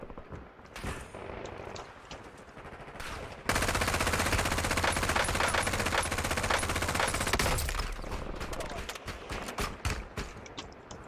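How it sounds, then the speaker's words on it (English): A sustained, loud stretch of close machine gun fire in a Warzone match, following scattered earlier shots and tapering into sporadic bursts, with someone talking over parts of it. "Stop shooting at me."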